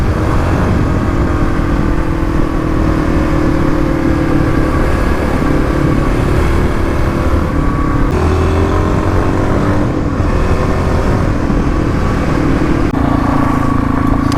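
Kawasaki KLX351 motorcycle ridden on twisty rally roads, a continuous loud engine drone that shifts pitch with gear changes and throttle, with a steady wind rush over it.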